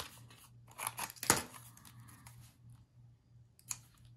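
Scissors snip off a small chunk of material, a few faint, close, quick crisp cuts with a single sharper snip in the middle, and light clicks in a quiet room.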